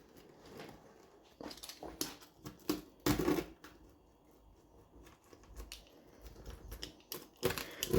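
Knife or cutter slicing through a Tesco deep pan meat feast pizza in short, irregular taps and scrapes, close and fairly quiet, with a few louder cutting strokes and no talk.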